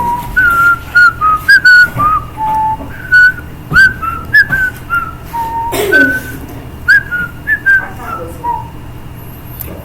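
A teacher in a classroom whistles a wandering tune in short bursts and phrases, fairly close, with brief pauses and a little background noise between notes.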